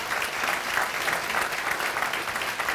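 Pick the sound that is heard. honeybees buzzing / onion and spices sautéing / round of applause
round of applause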